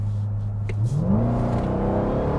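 A Dodge Durango Hellcat's engine revs up hard, its steady low roar climbing in pitch through a downshift as the SUV pulls, loud and close from start to finish with no talking.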